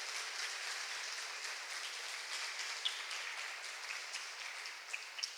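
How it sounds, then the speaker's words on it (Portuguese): Congregation applauding during a church service, a faint, distant wash of many hands clapping that holds steady, with a few slightly sharper claps near the end. "E dê um aplauso ao nome do Senhor Jesus."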